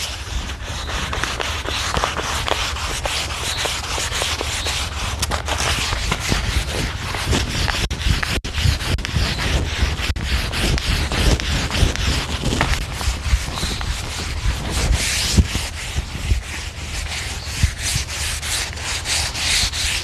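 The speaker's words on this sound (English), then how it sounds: "I'm going to smooth everything out where I've sanded with the rougher sandpaper" Wooden staircase spindles being hand-sanded with fine sandpaper after a rougher grit: steady, close, continuous scratchy rubbing strokes for the whole stretch, with no speech.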